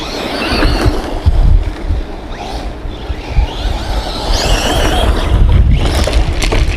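Vkar Racing SCTX10 V2 4WD RC short course truck driving outdoors at about half throttle, its motor whining and tires rumbling over rough ground under strong wind buffeting the microphone, loud and close.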